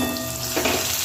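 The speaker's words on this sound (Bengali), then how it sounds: "পটল ভাজাতে খালি আমি লবণ দিয়েছিলাম, এখন আমি একটু" Pointed gourd (potol) slices fry in a pan with salt and turmeric, a short, steady close sizzle with a brief stirring swell midway.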